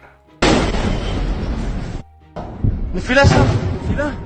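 Missile strike heard in played-back news footage, a heavy blast rumbling loud for over a second, a short gap, then a second explosive roar mixed with shouting voices and crowd noise.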